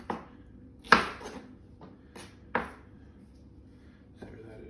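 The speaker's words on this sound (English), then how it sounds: "dicing those up" A knife dices food on a cutting board in a few sharp, separate chops with quiet pauses between them, close and fairly faint.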